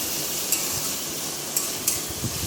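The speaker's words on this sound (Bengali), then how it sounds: "এভাবেই নেড়ে চেড়ে নেব কিছুক্ষণ" Onion, tomato and green chilli with salt are frying in a pan under a steady, loud sizzle, with a few light scrapes of a spoon as they are stirred.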